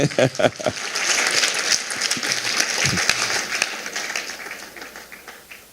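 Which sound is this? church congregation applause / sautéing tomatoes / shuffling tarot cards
church congregation applause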